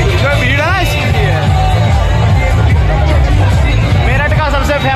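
Dense crowd hubbub in Meerut where people have gathered for a DJ, a continuous loud babble of many voices with occasional shouts and whoops, small DJ sets faintly playing in the mix.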